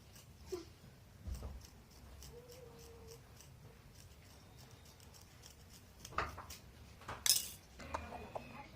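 Scissors snip through cloth for a small child's saree, a few faint, separate cuts and light clinks in a quiet room, with a sharper snip toward the end.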